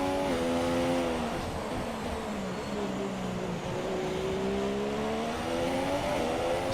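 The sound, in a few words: F1 2017 video game race car pitting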